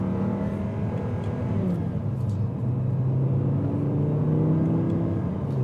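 An Audi R8 V10 engine drones and rises in pitch under load as paddle gearshifts are made, a steady near rumble with slowly climbing tones and no talking.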